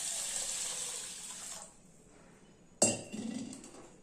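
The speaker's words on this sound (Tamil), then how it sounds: "இப்போ அரிசியும் உளுந்தையும் கழுவிட்டேன் நாலு தடவை கழுவிட்டு" Running water splashes into a bowl, then stops; a sharp clink follows and rice and lentils swirl and rustle in water close by as they are washed.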